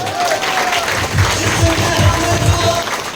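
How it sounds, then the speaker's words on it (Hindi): Applause fills a seminar hall in Indore as a company's managing director is acknowledged: a steady wash of clapping from the audience, with low rhythmic thumps underneath and some voices mixed in. "एक बार जोरदार तालियां।"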